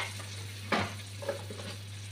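Broth goes into a pan holding fish and bottle gourd with a sudden splash and burst of sizzling, followed by softer bubbling and a low steady hum underneath.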